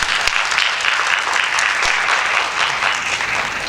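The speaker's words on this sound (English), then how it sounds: "A round of applause for the candidates" A crowd applauds candidates at a civic meeting, a dense, loud wash of steady clapping that carries evenly through the whole stretch with no talk.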